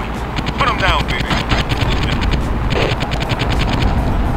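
Machine gun fire from a car-mounted weapon in Interstate '76, rapid rhythmic bursts of repeated shots over a rumbling engine drone, loud and close, with a voice talking over it.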